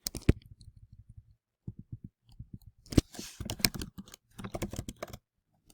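Quick bursts of typing on a computer keyboard, crisp close key clicks in short runs separated by brief pauses, with a few louder keystrokes.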